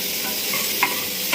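Food frying in a pan while being stirred, a dense continuous sizzle with a couple of brief scraping clinks, close and fairly loud, lasting only a moment.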